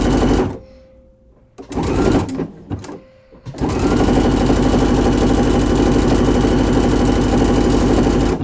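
A sewing machine stitching garment seams runs in short bursts with pauses, then settles into a long, steady, loud continuous run with a buzzing mechanical rhythm.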